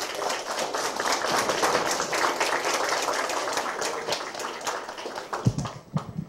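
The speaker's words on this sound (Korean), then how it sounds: "우리 문재인 후보님을 큰 박수로 맞아주십시오" An audience claps loudly to welcome presidential candidate Moon Jae-in at an education forum, dense steady applause that thins out near the end.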